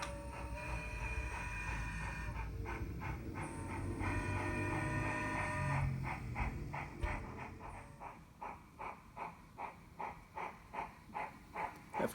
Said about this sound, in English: the train passes over Deception Cove